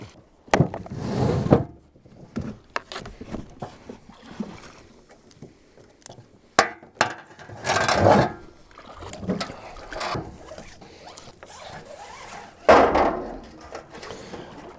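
An Expandacraft mini tritoon boat is taken apart, with hollow knocks, clunks and scraping of hull parts in irregular close bursts separated by quieter gaps and no voices.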